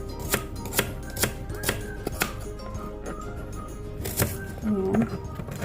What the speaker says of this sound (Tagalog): And cut it into cubes.